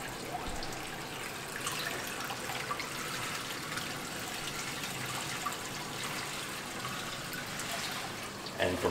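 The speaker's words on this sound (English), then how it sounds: "I'll catch the dribbles, move it down below, and start to refill this tank" Water pours steadily into a reef aquarium tank being refilled in a classroom, a continuous close splashing trickle with faint dribbles, fairly even in level and without voices.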